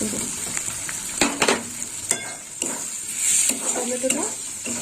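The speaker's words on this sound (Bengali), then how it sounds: "ভালো করে কষিয়ে নেবো এই মশলার সাথে" Spices and chopped tomato are sautéed in a hot pan for a prawn curry, a loud steady sizzle broken by repeated spatula scrapes and light knocks against the pan.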